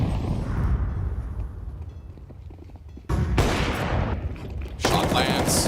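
Rifle gunfire in a Counter-Strike match at a major tournament, with dense overlapping bursts of shots and game effects under steady background noise, a loud sharp volley near three seconds and another near the end.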